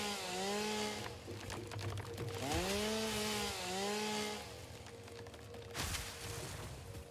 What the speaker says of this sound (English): Some crazy person's running around here with a chainsaw.